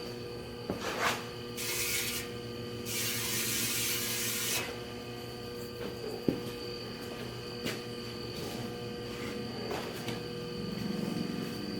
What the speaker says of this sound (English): Really what you're hearing is this battery charger.